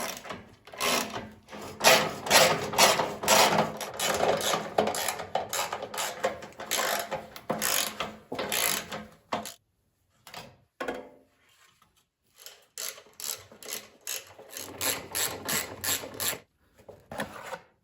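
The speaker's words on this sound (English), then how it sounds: "The base of the chute comes off with 5 bolts" A hand ratchet works the bolts free from the chute base of a 25-year-old MTD Yard Machines snow blower, with quick clicking strokes in close bursts, pauses between bolts and brief rattling of parts.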